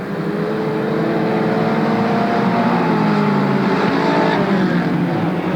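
360 sprint cars race on a dirt track at Marysville, California, a loud continuous engine roar with pitch sweeping up and down as several cars pass close together.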